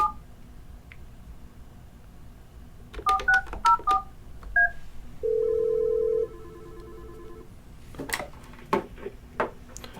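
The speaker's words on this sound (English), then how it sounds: "I'm going to call my DID because this is actually a test phone." A quick series of short telephone keypad DTMF tones dials a DID number on a test phone, followed by a longer steady tone and a few faint clicks and taps near the end, with no one speaking.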